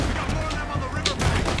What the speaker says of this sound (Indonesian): meledak nih, pelurunya meledak nih